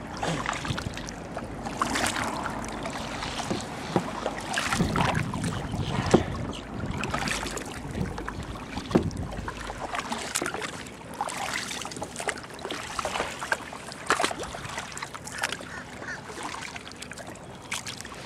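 A kayak paddled near a causeway, with repeated paddle strokes and splashes on the water, mixed with wind buffeting the microphone and occasional voices nearby.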